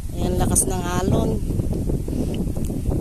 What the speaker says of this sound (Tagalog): Ang lakas-lakas naman ng hangin